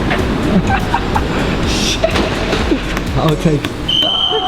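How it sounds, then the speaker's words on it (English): Bangkok metro train rumbling in a station, with rail clatter and a high whine near the end, while someone speaks briefly over it. "so I better get on this train quick."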